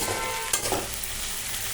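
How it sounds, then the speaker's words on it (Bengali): Khichuri of lentils, rice and winter vegetables frying in a pot as spices go in, a constant close sizzle broken by one sharp clatter and a brief burst of stirring, with no voices. "এবার আস্তে আস্তে মশলাগুলো অ্যাড করব।"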